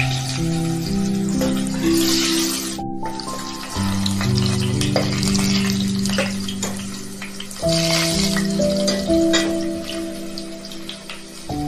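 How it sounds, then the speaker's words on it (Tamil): Large chunks of potato frying golden in oil for a chicken kurma, with a steady bubbling sizzle that stays close and continuous, joined by occasional stirring clatter and background tonal hum. "நல்லா கோல்டன் ஃப்ரை பண்ணுங்க ஃப்ரெண்ட்ஸ் உருளைக்கிழங்கு."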